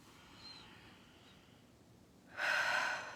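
A single soft, close breath drawn in sharply near the end, alone in a quiet room after faint stillness.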